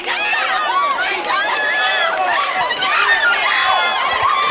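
Crowd noise at a Bengal Bouts amateur boxing championship bout at 154 lb, a steady loud mass of cheering, shouting and chatter from spectators, sustained throughout with swells of excitement.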